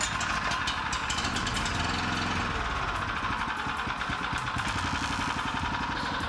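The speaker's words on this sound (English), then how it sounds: "We'll give it just a little choke and about half throttle. Pull the starter, and then we'll pull the choke back." A gasoline engine on a TimberKing B-20 bandmill starts with a pull and settles into a steady, loud, close running drone with rapid regular firing pulses, no voices over it.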